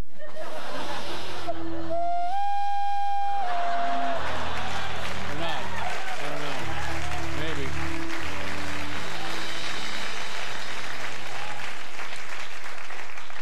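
A studio audience on a late-night talk show breaks into sustained applause mixed with laughter, swelling into a broad wash after a musical tone and voices.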